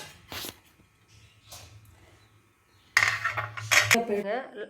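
Steamed idiyappam lifted from metal steaming plates into a vessel: scattered clinks and scrapes of steel plates and utensils, a few close knocks, then a louder burst of clattering near the end.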